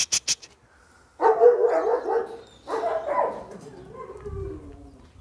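Kolt, a dog, fires off three sharp, close barks in quick succession, then drops into longer whining, yelping vocal sounds that trail away.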